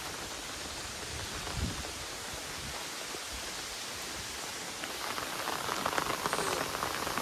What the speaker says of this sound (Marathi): अजून पाऊस पडतोय